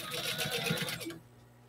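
A sewing machine stitches a pencil case in a short, rapid whirring burst that stops abruptly after about a second.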